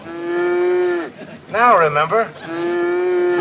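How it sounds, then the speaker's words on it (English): A cow moos from inside a train car, two long low drawn-out calls separated by a voice speaking briefly in between, loud and close. "Sounds like a cow's in there."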